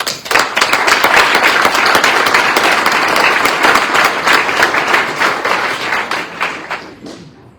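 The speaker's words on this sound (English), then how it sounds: "join me in a round of applause for all of" A crowd at an awards night for a charity walk and run gives a loud, dense round of applause for sponsors. The clapping swells quickly, holds steady, then tapers off and fades out at the end.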